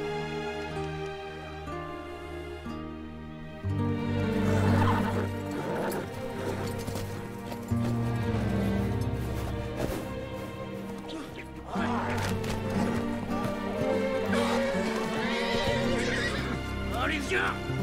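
Wild horses in an animated film scene neigh and whinny repeatedly over a loud, sweeping orchestral score, with galloping hoofbeats buried in the music throughout.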